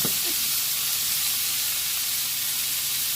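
Vegetables cooking in a pan for a holiday brisket give off a steady, loud, hissing sizzle, close and constant, with a faint knock at the start and no talk.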